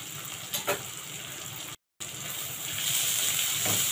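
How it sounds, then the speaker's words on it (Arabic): Garlic goes into a pan of wilted, softened onions and fries with a steady, close sizzle that grows slightly louder toward the end, with a brief stir clatter early on and a short gap of silence partway through. "هنحط التوم بقى."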